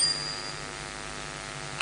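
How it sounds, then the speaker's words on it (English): A small hand bell rings once as a one-minute time warning at a governorship debate hall in Abia, its tone ringing out and sustaining steadily before cutting off. "1 minute to the time, I will ring a bell like this."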